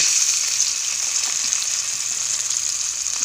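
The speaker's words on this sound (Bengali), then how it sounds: "এখন আমি নুন হলুদ মাখিয়ে রাখা কই মাছগুলো ভেজে নেব।" Koi fish rubbed with salt and turmeric fry in hot oil, producing a loud, dense, continuous sizzle with a steady hiss that stays even throughout, with no speech over it.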